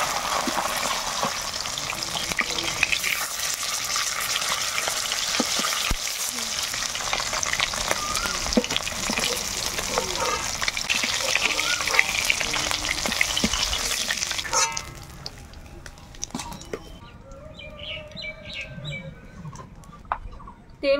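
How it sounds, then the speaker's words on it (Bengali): Fish pieces frying one by one in hot oil, a loud, steady crackling sizzle with stirring scrapes that fades to quieter bubbling toward the end; no talk. "এভাবে সব মাছগুলো ভেজে নেব এক এক করে।"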